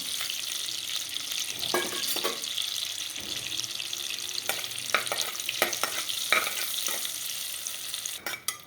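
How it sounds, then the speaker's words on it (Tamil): Whole spices fry in hot oil for navratan kurma, a steady bright sizzle broken by sharp crackles and pops, close and continuous with no voices. "இந்த ஸ்பைசஸ்லாம் நல்லா பொரிச்சிடுச்சு"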